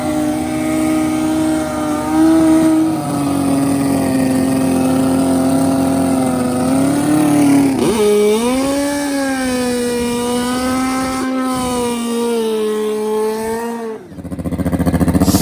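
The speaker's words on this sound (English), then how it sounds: "700 horsepower street tire, no wheelie bar drag bikes about to be turned loose on a cold, wet, dewy, chilly night" Two 700 hp turbo Hayabusa drag bikes on street tires with no wheelie bar rev on a cold, wet drag strip at night. A loud, buzzing engine note holds steady, then dips and climbs again before cutting off near the end.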